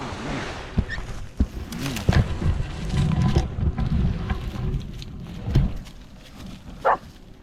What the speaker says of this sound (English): Barking at the waves.